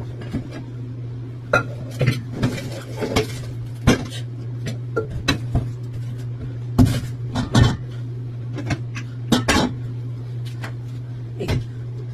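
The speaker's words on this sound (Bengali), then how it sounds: "এই বড় পাত্রটা নিয়ে নিলাম" A large cooking pot is handled in a home kitchen, giving scattered metallic clanks, knocks and clinks at irregular intervals over a steady low hum, with no talking.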